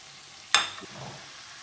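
Courgettes tipped into a hot wok of frying vegetables and shrimp give one sudden loud burst of sizzle that fades quickly into a softer crackle and faint stirring.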